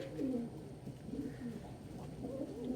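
Birmingham roller pigeons coo softly nearby, several low, rolling coos repeating at an easy pace over a quiet, faint background.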